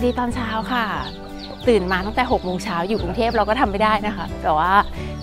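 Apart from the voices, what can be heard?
rooster crowing on a misty morning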